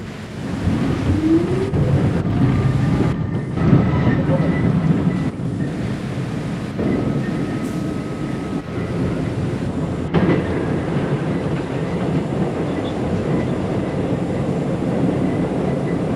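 An R40 Slant subway car on the C line rolls along with a steady rumbling roar, rhythmic clickety-clack of wheels over rail joints and occasional squeals, heard from inside the train.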